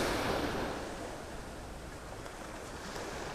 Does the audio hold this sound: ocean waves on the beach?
yes